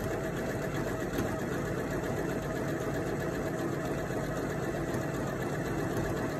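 Janome 230DC sewing machine stitching a buttonhole automatically, a continuous fast mechanical whir and rattle at steady loudness, close and unbroken.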